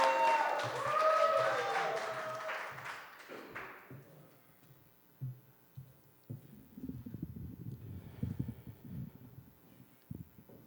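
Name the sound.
audience applause for a poet at a poetry slam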